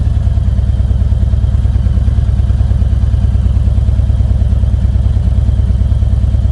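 A Harley-Davidson CVO motorcycle ridden on a cold 46-degree day gives a loud, continuous low engine rumble with a steady pulsing throb, unbroken throughout and free of speech.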